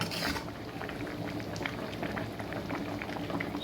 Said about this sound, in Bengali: এদিকে মাছের ঝোল একটু জোরে দিয়ে দিই, একটু জোরে ফুটে যাক